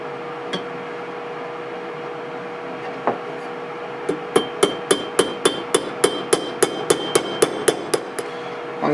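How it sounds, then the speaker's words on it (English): A pin is hammered into the hole of a South Bend toolpost grinder: a few scattered taps, then a steady run of about fifteen sharp, evenly spaced metallic blows, close and clear with no talking. "We're almost down, but I just don't like the idea of hammering on that"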